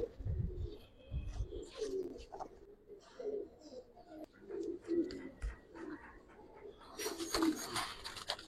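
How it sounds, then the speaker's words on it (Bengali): Giribaz pigeons on a rooftop give repeated soft, low coos at moderate distance, with a few brighter chirps and rustles and a brief hiss of noise near the end. "দেখেন প্রত্যেকটা কবুতর দেখেন"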